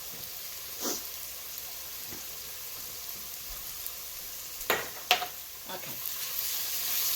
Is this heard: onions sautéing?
yes